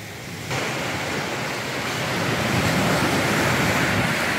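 Waves wash and surge continuously on a stony beach on Flowerpot Island, Tobermory, building slightly louder, with a broad rushing hiss and some wind noise.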